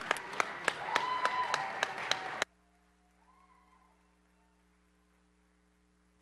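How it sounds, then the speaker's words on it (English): Applause in a council chamber for a confirmed nominee: a few seconds of distinct, close hand claps from a small group, stopping abruptly and leaving near silence with a faint low hum. "Let's give her another round of applause."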